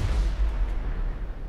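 A gunshot in the video game A Way Out, a short, loud, low boom that decays over a second with no talking.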